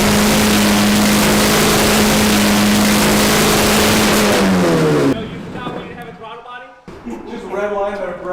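A Honda K24 engine swapped into a Nissan S13 revs hard to redline, a loud sustained close roar that drops off sharply, followed by rough idle and blips under talk.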